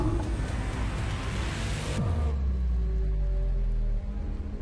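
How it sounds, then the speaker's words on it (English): Rain falls in the GT racing game Assetto Corsa Competizione as a dense, steady hiss, with a low engine rumble that drops in pitch partway through. No one speaks. "Nice rain effects, though."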